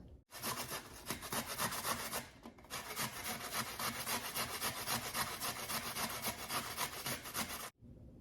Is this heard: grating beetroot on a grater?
yes